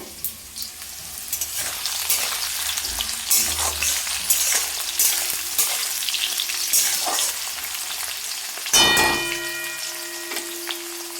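Pumpkin pieces fry in a pan for a vegetarian potato, pumpkin and chickpea dish, giving a steady close sizzle with scattered stirring scrapes and a brief ringing metallic clink near the end, with no talking.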